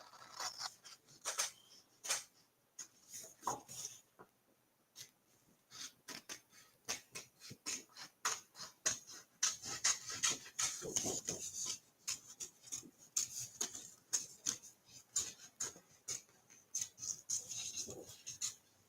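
Scissors cut a paper Christmas tag up close, with dense rapid snips and rustling paper running continuously without talk.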